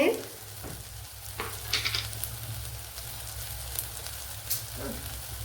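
Ingredients sautéing in a pan for a cauliflower curry, a soft steady sizzle with occasional scrapes and stirring clinks of a utensil, fairly quiet and close with no talking.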